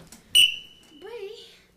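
A single sharp, shrill whistle blast starts an improv theatre exercise, loud and brief, followed by a quieter voice.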